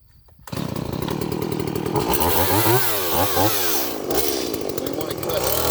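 A chainsaw starts up abruptly and runs loud and close, its engine pitch rising and falling as it revs while cutting.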